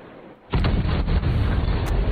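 An explosion bursts in a Final Fantasy XV Episode Ignis cutscene, an abrupt loud boom that gives way to a sustained rumbling roar with a few smaller pops, heavy and dense in the low end.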